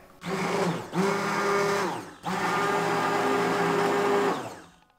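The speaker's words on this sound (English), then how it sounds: "Tap your stick blender on the bottom to release any bubbles. And then just go for it." A stick blender whirs loudly in two long bursts separated by a short pause, steady motor pitch, close by, mixing body butter.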